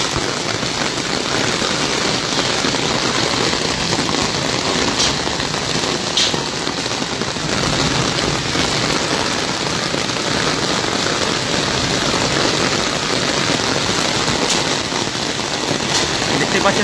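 Heavy downpour with hail pelting the ground in Arambagh during a storm with gusty wind, a dense, steady roar throughout with faint sharper hits scattered through it.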